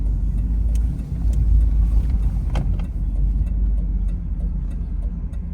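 1991 Chevrolet Camaro RS driving on a road, a heavy low engine rumble and road drone from inside the car, steady with slight swells, plus a few faint ticks and rattles.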